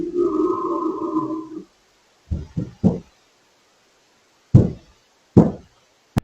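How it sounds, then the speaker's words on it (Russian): Knocking on a door, caught by a surveillance camera: a low growl-like rumble first, then a quick cluster of three dull thuds, a pause, and two more separate heavy knocks, close and loud. "После этого снова слышны звуки рычания и стука по двери."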